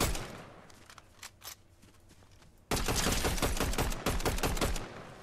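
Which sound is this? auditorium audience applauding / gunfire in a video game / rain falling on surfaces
gunfire in a video game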